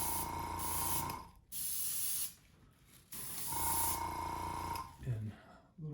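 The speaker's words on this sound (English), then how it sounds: "Now I've got a little chroma blue interference, and I'm going to spray the front here." Chroma blue interference paint sprays in loud hissing bursts onto a common loon palm frond decoy: two long blasts separated by a pause, then a shorter one, with a voice briefly in between.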